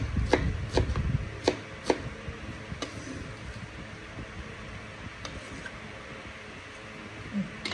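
Several sharp knife chops slicing large onions on a board, a quick cluster early on then sparser strikes, close but fairly quiet over a steady background hum.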